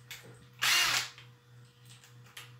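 A DeWalt Extreme DCF-801 impact driver, a brushed model on a 1.5 Ah battery, gives one short, loud, close whirring burst of under half a second, then drops back to a quiet background hum.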